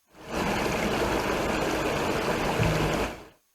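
The Yeşilöz mountain stream in a highland area of Şırnak, Turkey, rushes steadily, a dense, continuous wash of flowing water that fades in and out, with no voices.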